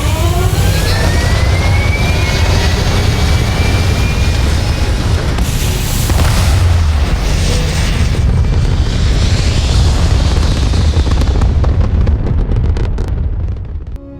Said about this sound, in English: Engines fired.